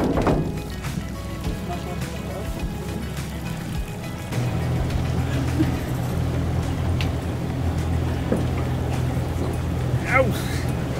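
A fishing boat motors slowly out to sea off Titran in Norway, its steady low engine drone and water wash running throughout, growing fuller after a few seconds, with people talking over it.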